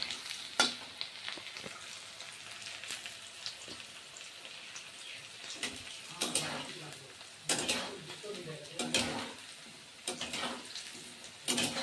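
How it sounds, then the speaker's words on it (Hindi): Mustard seeds, garlic, ginger, cumin and chilli fry in a pan with a soft, crackling sizzle, broken by intermittent scraping stirs and spoon clinks, and a voice speaks now and then. "ये लाल होने तक फ्राई करूँगी मैं इसे"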